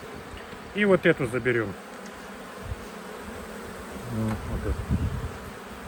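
Honey bees buzz steadily around hive frames being pulled from a village beehive, a continuous drone running through the whole stretch while someone speaks briefly at the start and again near the end.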